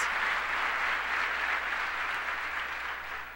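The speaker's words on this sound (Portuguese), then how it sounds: "Você pode glorificar o nome do Senhor com as suas palmas" A church congregation claps together during a sermon, a continuous wash of many hands at an even level that thins slightly toward the end.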